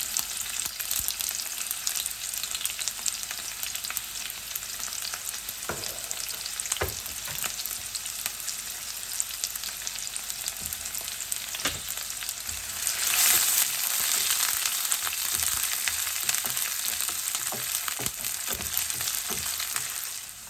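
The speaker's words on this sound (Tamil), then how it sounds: "கொஞ்சம் வெங்காயம் ரொம்ப தாளித்து போட்டு அதுக்குள்ளே போட்டு சேர்க்கலாம்" Steady, close sizzling of onions being tempered in hot oil for Tamil Modakkathan rice, a continuous crackling hiss with occasional stirring clatters, growing a bit louder near the middle.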